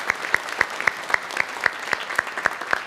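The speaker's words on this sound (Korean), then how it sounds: "잠깐 일어서시면 우리 박수로 환영하도록 하겠습니다" Church congregation at a Sunday worship service applauding to welcome newcomers, with rhythmic unison clapping in sharp, evenly spaced beats about four per second, over a soft background wash of scattered claps.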